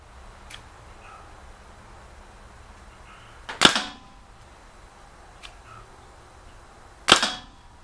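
A Gamo PT-85 blowback pellet pistol fires two sharp, snappy shots a few seconds apart in a quiet room, each with a brief mechanical clack, preceded by faint small clicks.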